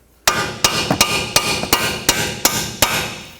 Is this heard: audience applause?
no